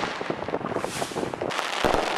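Illegal fireworks crackle and pop in rapid, dense bursts on the streets of Petworth, Washington DC, a busy stream of sharp cracks with a louder blast toward the end.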